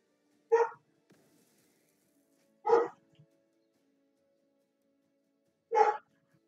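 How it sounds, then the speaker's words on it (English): Three single dog barks spaced a couple of seconds apart, fairly distant and muffled, with quiet in between. "Sorry if you can hear the barking"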